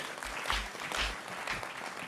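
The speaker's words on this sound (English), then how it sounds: "You can clap." A church audience applauds a youth ministry testimony. The clapping is brief and moderately distant and holds a fairly even pace across the short stretch.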